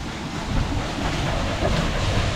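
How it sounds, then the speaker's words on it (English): Water pours and drips steadily off a very large water wheel at Elim, South Africa, a dense, even rush of splashing that stays fairly loud throughout with no voices. "And all the water dripping there."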